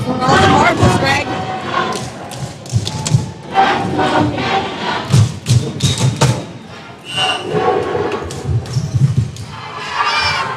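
Large home crowd of Canadian fans roaring and cheering at a dodgeball world championship match, a continuous dense swell with thuds of balls and bursts of louder cheering, voices mixed throughout.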